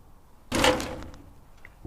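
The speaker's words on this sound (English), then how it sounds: "I recorded this trash bin, opening the lid, hitting it with my foot." A trash bin gets its lid opened and a kick from a foot, giving one sharp hollow thunk that rings briefly and fades, recorded close in an otherwise quiet spot.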